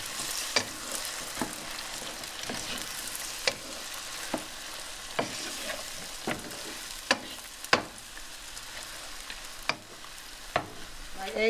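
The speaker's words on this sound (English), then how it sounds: "I'm going to put my eggs in. And we're going to scramble them softly." Eggs scramble softly in a pan over medium-low heat, a low continuous sizzle broken by regular sharp taps and scrapes of a utensil against the pan, close and unaccompanied by talk.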